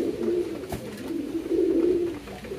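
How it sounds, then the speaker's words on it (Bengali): Pigeons coo in low, repeated throaty phrases on a farm as newly bought birds join the flock, steady and fairly close with no talking. "নতুন কবুতর পেয়ে ডাক দিচ্ছে"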